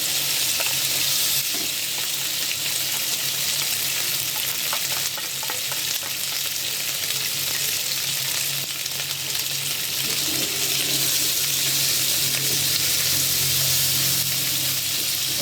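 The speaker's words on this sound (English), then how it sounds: "We're gonna first fry our pork first." Pork for ham sui gok filling fries in a wok with a loud, continuous hiss and crackle. Faint scraping stir sounds come and go beneath it.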